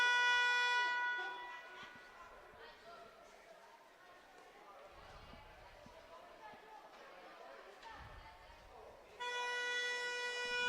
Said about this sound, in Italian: Rifischia la sirena.